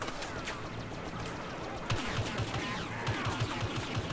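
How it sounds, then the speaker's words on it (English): Blaster fire from a third-person shooter, Star Wars Battlefront beta, aimed into a rock: a rapid run of short, evenly spaced shots over steady background battle noise, moderately loud. "Yeah, I'm firing into a rock."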